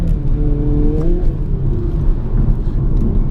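A 2022 Hyundai Kona N crossover drives hard, its engine droning loud and steady with rising and falling revs, heard close from inside the car with no talk.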